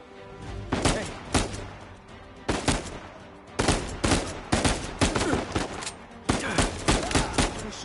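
Gunfire in the video game Uncharted 4: A Thief's End, loud bursts of rapid shots in several clusters separated by brief pauses, with no voices.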